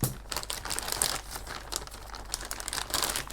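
Crinkling plastic packaging around a headlight protector for a Kawasaki KLR650 being handled and pulled apart, with continuous crackling and rustling close by, no voices.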